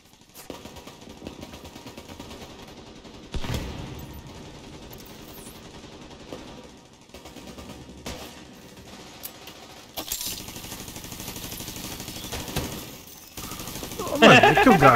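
Gunfire in The Division 2 video game, with several sharp shots and short bursts scattered through the stretch alongside game effects, while a player talks over it.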